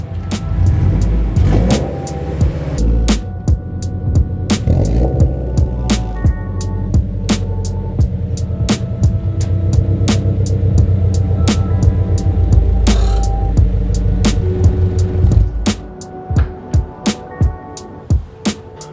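A 2022 Subaru BRZ drives at night, its engine droning loudly and steadily, then easing off near the end while sharp clicks and taps from the cabin ring out, with no talk.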